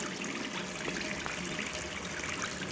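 A running faucet in the game Gone Home gives off a steady, soft stream of trickling water that stays even and unbroken throughout, fairly quiet and alone.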